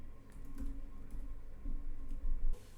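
A search word is typed on a computer keyboard into Google Docs, a quiet run of quick, uneven key clicks heard close by with no speech.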